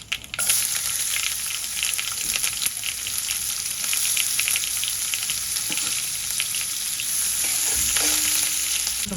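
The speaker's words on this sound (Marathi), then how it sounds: "मोहरी छान फुलली की यावर आपण कांदा घालूया." Onion fries in hot oil with popped mustard seeds, asafoetida and curry leaves for a pea curry, a loud steady crackling sizzle close up, with stirring scrapes throughout.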